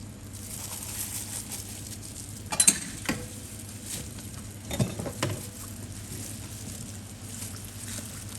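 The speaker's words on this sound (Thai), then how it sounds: "จากนั้นนำลงทอดค่ะ" Breaded chicken tenderloin with a barbecue-powder coating frying in oil that is not very hot: a soft, steady sizzle with a couple of brief clattering bursts midway, no voices.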